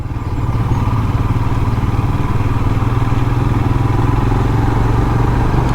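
A Royal Enfield Himalayan motorcycle rides along back roads with a steady, loud engine drone and low thrumming rumble, continuous and close throughout with no pauses.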